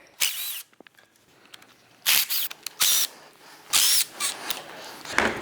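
A power drill whirs in short, separate bursts while backing screws out of an Ice Ripper motor head, with brief clicks and quiet pauses between runs.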